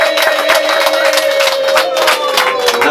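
Wedding-style family celebration crowd in Rwanda, with dense sustained clapping and loud high-pitched ululation carrying over the whole stretch, voices mingled in, close and energetic.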